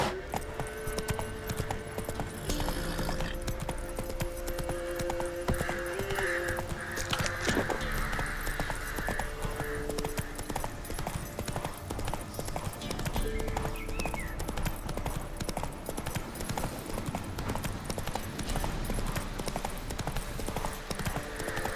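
Horse hooves clip-clop steadily on a road in The Witcher 3: Wild Hunt, a continuous rhythmic trot with faint tack jingle and occasional game ambience, heard alone and fairly close.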